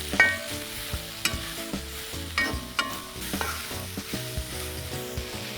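Curry leaves and chopped onions sizzle steadily in a hot pan for Kerala-style kappa biryani, with repeated close scraping and clinking as a spoon stirs them; no one speaks.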